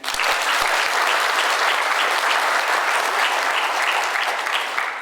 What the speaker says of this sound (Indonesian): Mohon tepuk tangan Pak